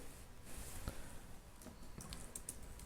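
Typing on a computer keyboard, very faint light clicks tapping in quick, uneven bursts against a quiet room background.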